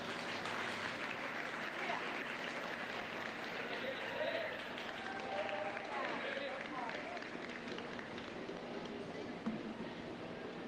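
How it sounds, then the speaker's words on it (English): An audience claps at a 2025 Monroe County 4-H goat show, producing a dense, even wash of applause that carries on for several seconds in a large room, with faint crowd voices mixed in. "Go ahead and give this trio a nice round of applause."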